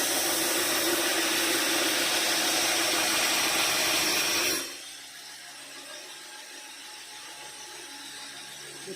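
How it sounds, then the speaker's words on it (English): Mosaic Damascus steel being ground down hard on a grinder, a loud steady whining roar with hiss that cuts off abruptly midway, leaving a quieter hum. "I'm going to start hogging material and you can watch sparks go."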